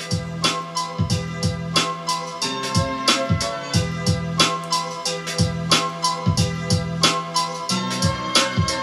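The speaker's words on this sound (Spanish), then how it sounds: "boom bap, un chopeo. Varios chopeos de piano que se van superponiendo." A boom bap instrumental beat at 91 BPM with layered, overlapping piano chops plays alone, punchy kicks and snares hitting in a steady loop under repeating piano stabs.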